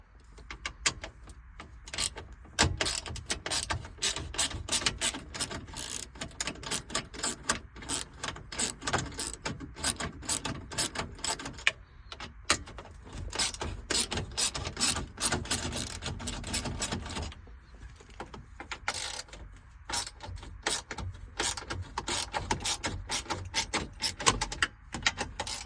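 7mm screws come out of the stereo area of a Ford Expedition dashboard, with a long run of close, dense metallic clicking and rattling from a hand tool and some handling knocks.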